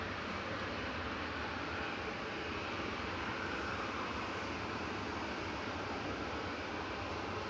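A 19-year-old Aer Lingus Airbus A320 jet at Manchester Airport, a broad steady engine roar heard from a distance, constant and fairly faint with no voices.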